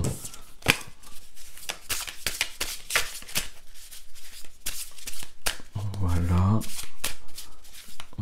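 Tarot cards are shuffled in a steady run of crisp riffling and slapping, close and fairly loud, with someone speaking French over the shuffling.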